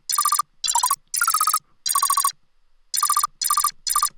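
A granular synth with long grain size and shifted pitch: synthetic electronic tones chop into short stuttering bursts with gaps, their pitch wavering and bending in a buzzy, ringtone-like pattern.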